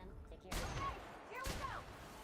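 Gunfire in the sci-fi role-playing game The Outer Worlds: two sharp, loud bursts of shots about a second apart, ringing out over faint background ambience.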